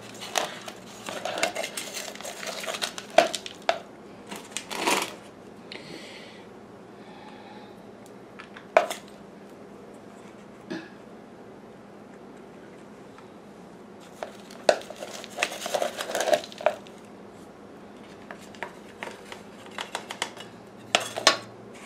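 Potting soil is tipped into a pot while repotting a donkey's tail (burro's tail) succulent, giving close, intermittent crunching and scraping bursts with quiet gaps between them and no talking.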